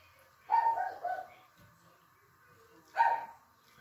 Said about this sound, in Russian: Собачка гавкает наша.